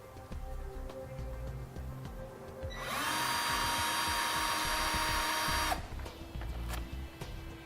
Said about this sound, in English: we'll use this as a guide to drill a pilot hole